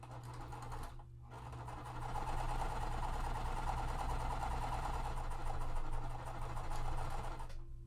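A sewing machine chain stitching quilt pieces for a Wild West puzzle mystery quilt, running steadily and continuously after a brief pause near the start, close by with no talk.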